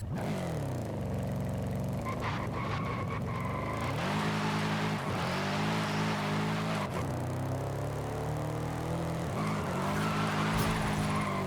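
A stock 2018 BMW M5 in Forza Horizon 5 revs and accelerates through gear changes, engine pitch climbing and dropping repeatedly with brief tyre skids, loud and close throughout.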